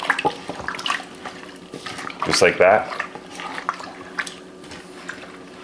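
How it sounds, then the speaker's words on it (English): Water poured into beef stew in a pressure cooker, a brief splashing burst mid-clip over the pot, with a person talking around it. "I'm adding the water so I can get things moved around easy in here."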